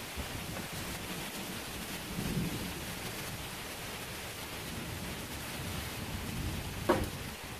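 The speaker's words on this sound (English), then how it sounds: "just thundering and lightning. Really windy. Loud." Thunder rolling through a windy storm with little rain: a faint, continuous rumble and wind noise, swelling slightly around a couple of moments, with a brief sharper crack near the end.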